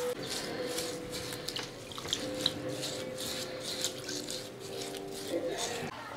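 Tap water runs steadily into a kitchen sink while cooked pork knuckle is rinsed, a soft hiss with small splashes, and a voice speaks over it.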